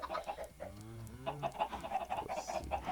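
Chickens in the Minecraft video game clucking, several short quiet bursts of game sound effects repeating in an uneven rhythm, with no talking.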